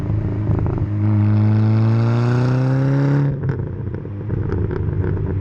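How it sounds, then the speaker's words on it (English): A modified Audi 8P S3 with a custom PowerFlex exhaust revs hard and loud nearby, its droning note climbing steadily for about two seconds before cutting off into a crackling, burbling idle, with no talk over it. "This one, as you can hear behind me, has a completely custom PowerFlex exhaust system. It is incredibly loud with pretty much no resonation in it."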